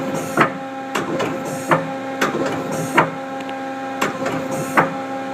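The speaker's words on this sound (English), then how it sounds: "We do a turret index." A Mazak QT-20 CNC lathe turret indexing bidirectionally, heard as a series of sharp mechanical clunks at roughly one-second intervals over a steady machine hum, close and fairly loud with no talking.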